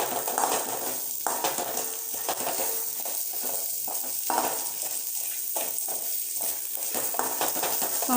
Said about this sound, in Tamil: உப்பு போட்டால் சீக்கிரமாக வெங்காயம் வதங்கிடும்